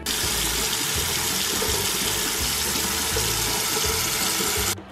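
Tap water runs steadily into a container, a loud, continuous rushing pour that cuts off abruptly at the end.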